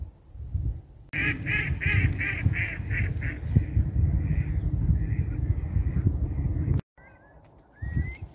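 Ducks on the water call out in a rapid run of loud, harsh quacks, then trail off into softer calls with a few faint squeaks near the end.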